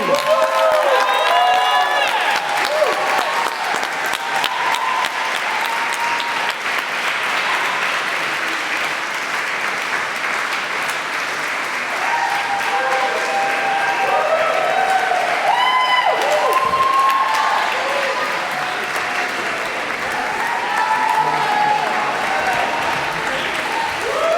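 A concert audience welcomes a Yale a cappella group with loud, sustained applause that fills the hall, mixed with cheering and whooping voices throughout.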